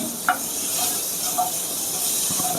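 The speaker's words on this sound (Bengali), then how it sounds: "বাটার দিয়ে হালকা করে ফ্রাই করে নেব" Chicken frying lightly in butter gives a soft, steady hiss and sizzle, with a couple of faint pops and no voices.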